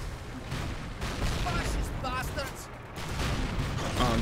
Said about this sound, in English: Oh crap, we got anti-tank guns.